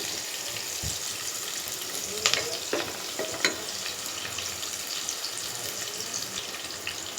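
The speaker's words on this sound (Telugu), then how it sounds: "కొంచెం ఫ్రై అయిన తర్వాత ఆనియన్ ఎప్పుడు కూడా కొంచెం వేగితే బాగుంటుంది మనకి." Onions frying in a pan for tomato masala rice give a steady, soft sizzle throughout, with a few light clinks and stirring scrapes partway through.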